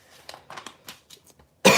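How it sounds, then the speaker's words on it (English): A person coughs in a short series of dry, muffled coughs close by, followed by a sudden loud burst of noise at the end. "I'm starting to cough over here."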